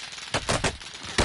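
Several sharp bursts of video game gunfire in quick succession, loud and close, with a final heavier burst at the end.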